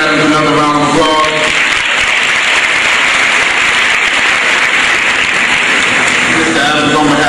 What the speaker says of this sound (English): Let's give Mr. Adams another round of applause.